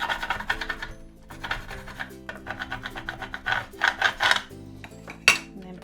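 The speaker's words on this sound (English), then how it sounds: "Grab that scraper and just give it a bit of a rub." A plastic scraper rubs firmly over decoration being smoothed onto a desktop bin, giving close, steady scratchy strokes that rise and fall in a rough back-and-forth rhythm.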